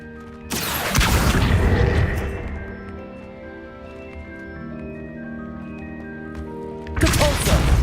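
A spell cast in a Harry Potter video game, the Accio summoning charm: a loud whooshing burst at the start, then a ringing tonal shimmer that fades, then a second burst near the end.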